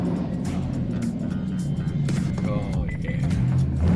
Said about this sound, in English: What this means is we got the GT500 running after it burned up. We have to take it for a drive.